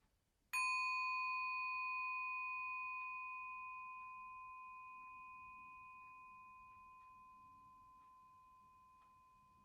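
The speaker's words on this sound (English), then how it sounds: "let's take a moment to hear the sound of the bell." A single meditation bell is struck once, a bright, pure ringing tone that sustains and decays slowly over several seconds in a quiet room.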